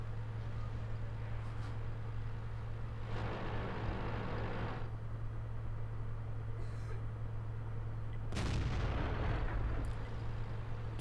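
In World of Tanks, a Panther tank's gun fires two heavy booming shots a few seconds apart over a constant low engine rumble.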